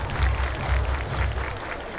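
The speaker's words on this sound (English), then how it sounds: "Everybody clap your hands" Crowd at a baseball game clapping in unison to a beat, rhythmic thuds every half second under a dense wash of stadium noise.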